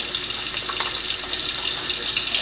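Kitchen tap water running steadily into a strainer of rinsed black beans, a constant close hiss and splash with no break and no voices.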